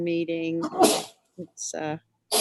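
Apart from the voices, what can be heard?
sneeze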